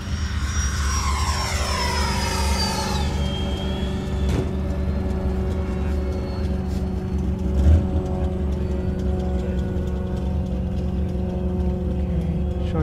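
A Freewing F-18 90mm electric ducted-fan RC jet makes a pass over a flying field in Hemet, its loud whining roar sweeping down in pitch as it passes close, then settling into a steady, sustained rushing drone.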